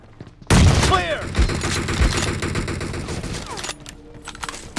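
Rapid bursts of gunfire from the mobile shooter PUBG Mobile, including M24 sniper rifle shots, loud and close with a dense fusillade after a sharp onset, with voices calling out under the shooting.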